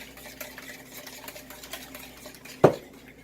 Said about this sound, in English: just mixing up 4 large eggs